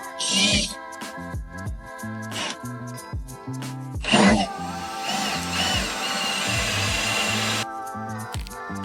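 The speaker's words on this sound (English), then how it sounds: "Alright, so we drilled the hole." A power drill fitted with a step drill bit bores a hole during a straight axle swap on a first-generation Toyota Tacoma, grinding in loud bursts that ease off briefly, then settle into one long sustained cut before stopping.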